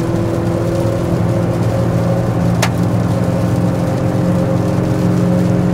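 A car engine pulls steadily in fourth gear on a vehicle fitted with 14-inch tires, a constant droning hum with tonal whine, loud and close from inside, with one brief sharp click partway through.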